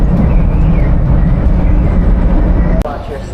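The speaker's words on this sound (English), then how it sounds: "My train." A Chicago train heading to the airport rumbles steadily and loudly with continuous rolling rail noise, ending in a sharp clunk near the end as the sound drops slightly.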